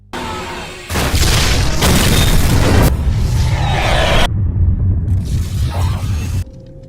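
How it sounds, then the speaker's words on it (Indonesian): A van blows up in a film scene with a huge, loud explosion: a sudden booming blast that sets off a dense, roaring rumble of fire and debris lasting several seconds, then cuts to quiet. "Farner berhasil masuk ke Van dan dapat jackpot berupa ledakan dahsyat"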